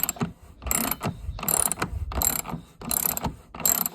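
A screwdriver turns a screw in the keel wheel housing of a Moken 10 PDL kayak, giving repeated short ratcheting clicks in bursts with brief pauses between them, close and fairly loud.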